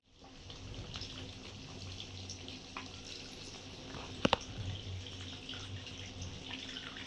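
A steady, faint stream of tamarind water pours and splashes continuously into a pan, with a couple of sharp clinks partway through.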